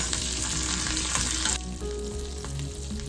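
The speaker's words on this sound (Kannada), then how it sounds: "ಹಾಗೆ ಸ್ವಲ್ಪ ಕರಿಬೇವು, ಸ್ವಲ್ಪ ಜೀರಿಗೆ, 1 ಸ್ಪೂನ್ ಅಷ್ಟು ಹಾಕ್ಕೊಂಡು ಸ್ವಲ್ಪ ಹುರ್ಕೊಬೇಕು." Curry leaves and cumin seeds frying in a hot pan for a Kannada-style okra chutney, a loud continuous sizzle that eases slightly partway through, with no talking.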